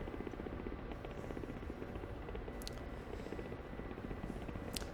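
Ka-50 helicopter flying in the DCS combat flight simulator, a constant rotor and turbine drone with rhythmic blade chop, steady and moderately quiet, with a few high whistling spikes and no speech.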